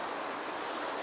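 Water rushes continuously over a weir on a brook, a broad, steady roar with no break.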